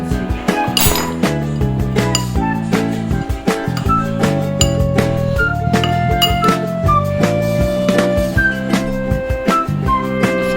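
White chocolate chips stirred into a chocolate momo stuffing, with steady bright clinking of a spoon against a bowl, close and loud, continuing without pause and no talking.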